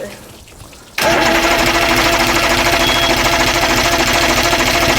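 A 90hp Johnson outboard motor, a 2000 model, is cranked in neutral and catches after a second of quiet, then runs loud and steady with a fast, even mechanical chatter close by.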